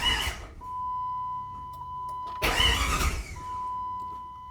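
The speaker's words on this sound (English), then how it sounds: "let's do a quick little crank" A 1997 Jeep Grand Cherokee ZJ with a freshly installed head gasket cranks briefly in two short bursts after the fuel is primed, heard fairly quiet over a steady background whine, with no voices.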